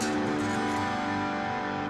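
A single electric guitar chord rings out and sustains, slowly decaying over about two seconds, heard alone and up close.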